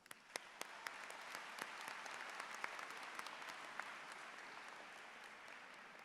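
A commencement audience gives a round of applause, a dense, steady wash of many hands clapping at moderate distance, with sharper individual claps near the start and no talk.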